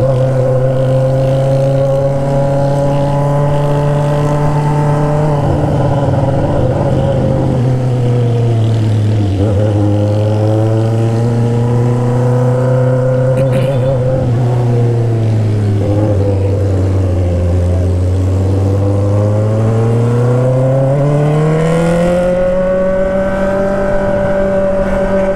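Honda Hornet and Tiger 900 motorcycles with straight-pipe exhausts rev hard at a hillside gathering of hundreds of bikes, a loud, close engine note rising and falling in long sweeping pulls, with no talking.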